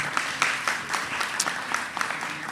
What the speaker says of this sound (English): I would ask for an applause to the European Union